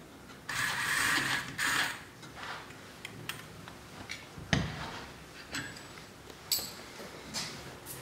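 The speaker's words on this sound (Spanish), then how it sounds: "En este momento estaríamos colocando ya nuestro tornillo central para que el plato base se asiente bien a la glena" Ratcheting surgical screwdriver driving the central screw into a glenoid baseplate during reverse shoulder arthroplasty instrumentation: a longer burst of clicking ratchet turns, then scattered single clicks and taps, close and fairly quiet.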